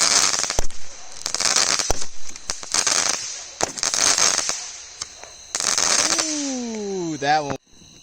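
Budget consumer fireworks costing about five dollars apiece go off in a string of loud crackling bursts and pops, ending with a rising whistle that wavers briefly before cutting out.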